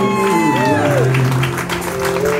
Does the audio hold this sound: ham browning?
no